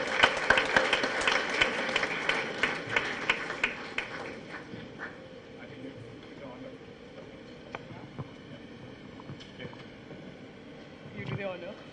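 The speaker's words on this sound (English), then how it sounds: "Let's give a round of applause for the first panel." Applause at a business school HR conference fills the room with several seconds of scattered clapping, then fades into a quieter hall.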